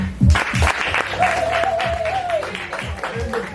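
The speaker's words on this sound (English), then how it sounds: "everybody give applause to yourself." Audience applause at a Cleveland poetry event, a mass of clapping spread throughout with a sustained whoop or voice rising over it and some talk mixed in.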